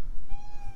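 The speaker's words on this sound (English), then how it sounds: "One of the cats." One cat lets out a single short meow, close and clear, against low background rumble.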